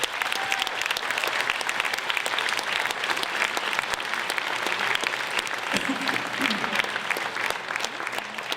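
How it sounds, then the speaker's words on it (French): An awards gala audience at a chamber of commerce merit ceremony gives warm, sustained applause that stays full and even for nearly nine seconds, with a faint tone briefly audible beneath it. "On les applaudit chaleureusement."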